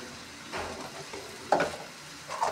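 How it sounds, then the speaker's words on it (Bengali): Chow mein is stirred in a hot pan: close scraping strokes against a steady sizzle, with a couple of louder stirring bursts. "এবার ভালো করে নাড়াচাড়া দিয়ে নেবো।"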